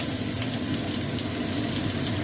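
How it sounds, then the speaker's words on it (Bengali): Pumpkin pieces fry in oil left over from frying potatoes, giving a steady, even sizzle with a dense hiss that continues unchanged throughout, with no voices. "এবার আলু ভাজার তেলেতেই আমি কুমড়োটা ভেজে নেব।"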